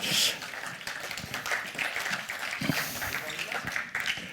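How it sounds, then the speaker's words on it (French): Scattered applause from an audience at a talk on eco-mobility, a rough mix of claps at moderate level with voices over it throughout. "Merci de les accueillir sous vos applaudissements"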